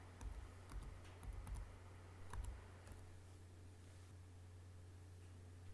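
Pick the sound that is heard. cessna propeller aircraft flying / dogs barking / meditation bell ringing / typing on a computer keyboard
typing on a computer keyboard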